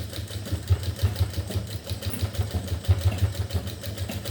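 An electric sewing machine stitches a shirt seam, a steady low motor hum with fast rhythmic needle pulses running continuously and close by, no talk.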